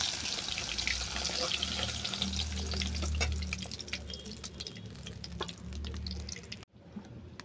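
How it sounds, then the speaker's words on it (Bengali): Vegetables frying in hot oil for a hilsa fish curry: a continuous wet sizzle with scattered crackles and spatters, fairly quiet, that drops out abruptly near the end. "এই তেলের মধ্যে সবজিগুলোকে সব ভেজে নেব"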